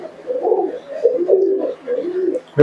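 Giribaj pigeons coo softly and close by in a run of low, rolling, repeated phrases, with no voices over them.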